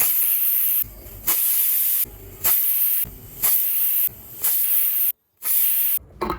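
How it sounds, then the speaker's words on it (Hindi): A pressure cooker with masoor dal inside vents steam in a rhythmic, hissing chuff, loud bursts repeating about once a second, with brief quiet gaps between them. "अब कुकर का ढक्कन लगा लेंगे हम और कम से कम 5 से 6 सीटी आने तक वेट कर लेंगे।"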